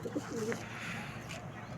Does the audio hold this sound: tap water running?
no